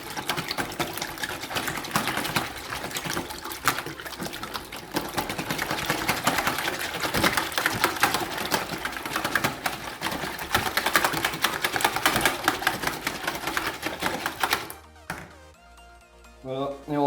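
Thirty eggs with spice are whisked hard in a large container, likely by an electric mixer, while making homemade carp fishing boilies. The churning, sloshing whir is loud and continuous, then drops to quieter liquid movement near the end.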